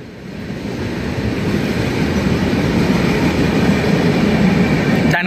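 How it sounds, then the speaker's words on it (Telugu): The Shalimar East Coast Express passenger train rolls along the Hyderabad route with a loud, continuous rumble and rail clatter that builds slightly and holds steady, with no talking over it. "షాలిమార్ ఈస్ట్ కోస్ట్ ఎక్స్ప్రెస్ అయితే స్కిప్ చేస్తుంది కొవ్వూరు రైల్వే స్టేషన్"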